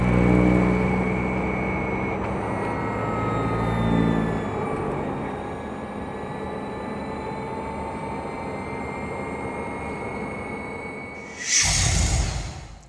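A Fiat 600 Hybrid drives along with steady road and engine noise, a quiet whine gliding in pitch as the combustion engine shuts off and the electric motor runs alone, ending with a brief louder whoosh.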